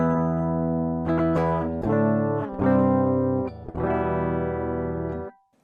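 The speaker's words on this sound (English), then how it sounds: "This treble pickup is the one that's closest to the bridge, and it has the brightest characteristics." Bright, trebly electric guitar on the treble pickup nearest the bridge plays several ringing chords and notes with a cutting edge, loud and alone, ending in a short silence.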